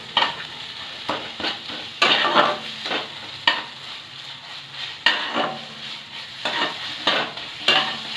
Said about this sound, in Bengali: এবার ভালোভাবে এটাকে মিশিয়ে নেব।